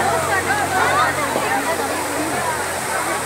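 Waterfall in a park, a continuous rushing wash of falling water close by, with faint background chatter from people nearby.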